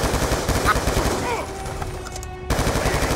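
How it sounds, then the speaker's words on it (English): Rapid machine-gun and rifle fire in Call of Duty Black Ops II, loud close bursts that pause briefly, then resume, with a voice faintly underneath. "Gunshots came from inside."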